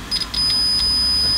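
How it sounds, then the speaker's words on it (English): A multimeter set to continuity gives short beeps as its probes touch while checking wiring for a short during a 4x4 radio and antenna fit, roughly four quick bleeps under a steady low hum. "If I touch the points, it must beep."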